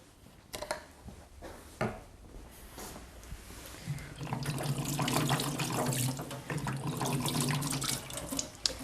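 Water runs from a kitchen tap into a sink while hands are wetted before shaping potato and zucchini rosti patties, a steady close rush that swells and continues for several seconds after a few faint clicks.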